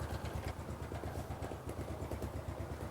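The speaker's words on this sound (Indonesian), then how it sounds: "Ini mesinnya nyala ya." A restored Yamaha Mio scooter engine idles with a quick, even low putter of regular beats, fairly quiet and steady, with no voices.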